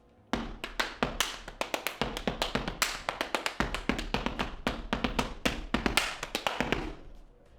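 Rapid step dance stomps and claps in a steady, driving rhythm, crisp and close, with occasional heavier thuds, fading at the end.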